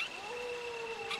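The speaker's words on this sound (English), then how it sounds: "What the dog doing?" A dog howling in the Resident Evil 1 video game, one sustained, rising and wavering howl heard up close and fairly loud, with nothing else sounding over it.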